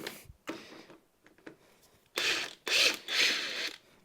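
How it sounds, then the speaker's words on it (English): A DeWalt impact driver works on the intake of a Dodge HP 440 police-car engine, giving three loud mechanical bursts near the end after a few faint clicks and knocks. "the freaking DeWalt Impact's the way to go"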